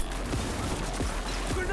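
Gunfire in the video game Cyberpunk 2077: rapid, repeated shots that keep up a loud, steady barrage through the whole stretch, with voices talking over the shooting.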